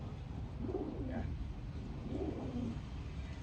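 Racing pigeons in a loft coo in soft, low rolling phrases, two coos a second or so apart, faint and close under a murmuring background.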